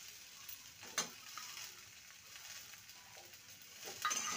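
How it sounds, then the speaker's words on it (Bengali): Spiced potatoes sizzle in a pan as fried bitter gourd is added, a soft, steady frying hiss with a few faint utensil clinks and stirring scrapes nearby and no talk. "মশলার সাথে আলুকে ভালো মতন কষিয়ে নিয়েছি। এবার ভেজে রাখা উচ্ছে দিয়ে দেবো।"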